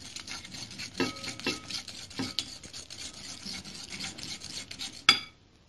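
A whisk scrapes and rasps against a bowl while creaming sugar and butter together, a quick irregular rhythm of close strokes and taps, ending in one sharper clack.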